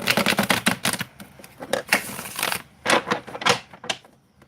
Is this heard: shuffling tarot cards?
yes